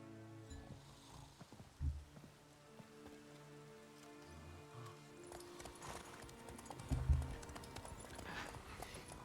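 Horse hooves clip-clop steadily at a riding pace in The Witcher III, with rain pattering throughout, a soft background score, and a couple of louder thumps.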